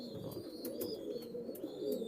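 A male Prince Kamagar pigeon coos softly and continuously, low rolling murmurs close by with faint higher chirps in the background.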